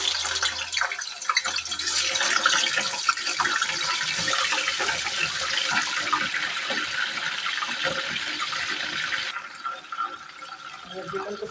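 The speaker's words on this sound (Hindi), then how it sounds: "चिकन को फ्राई करते हैं।" Chicken frying in hot oil in a pan for green karahi, a steady bright sizzle that carries on for several seconds and then eases slightly, with a voice talking over it.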